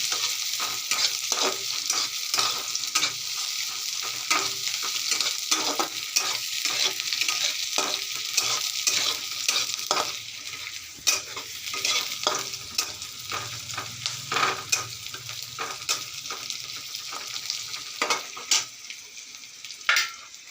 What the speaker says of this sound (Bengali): আদা কুচি দিলাম, একটু নাড়াচাড়া করে নিচ্ছি